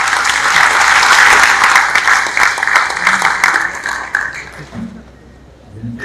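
An audience at a public event in Omkareshwar applauds Prime Minister Modi, loud sustained clapping from many hands that gradually thins out and fades over several seconds.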